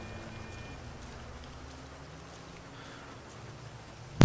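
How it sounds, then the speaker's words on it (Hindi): Rain falls in GTA 5 Online, a steady, even hiss of droplets at moderate loudness, with a sharp brief knock right at the end and no talking. "बारिश हो रही है भाई, मैं निकल रहा हूँ।"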